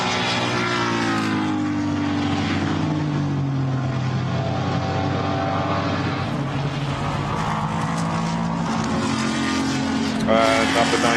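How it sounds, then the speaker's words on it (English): A Ford Mustang GT4 race car engine rumbles and drones loudly and continuously during qualifying at the Nurburgring, its pitch rising and falling as it runs, with a voice talking over it. "Eric de Donker making a great rumbling sound in that Ford Mustang from Motorsport 98."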